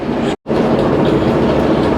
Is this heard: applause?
no